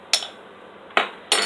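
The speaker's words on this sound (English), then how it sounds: "So I'm just going to use a little spoon and put the garlic in here." A small spoon clinks against a dish while garlic is added for keto Korean chicken: three short, bright metallic taps, close by, with quiet pauses between them and no talking.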